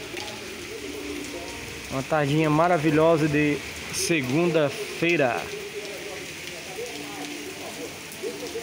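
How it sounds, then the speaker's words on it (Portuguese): Light rain patters steadily on surfaces on a warm afternoon, a soft continuous hiss beneath a voice speaking in the foreground. "Sente o climinha da chuva aí, ó."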